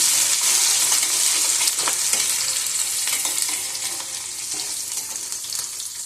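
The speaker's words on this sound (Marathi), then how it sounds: "त्याच्यामध्ये लसूण आणि कांदा टाकून घ्यायचा, त्याला छान असं परतून घ्यायचं" Cumin, garlic and onion sautéing in hot oil for fried rice give a steady, close frying sizzle with occasional stirring clicks, fading slightly toward the end, with no talk.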